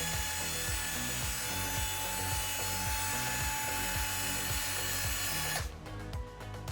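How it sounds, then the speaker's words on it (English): A wire brush scrubs rust off bolts during Honda K24a engine prep: a steady, loud, rhythmic rasping grind that runs for about five seconds, then cuts off abruptly. "you first use a wire brush, and you can clean off any residue of"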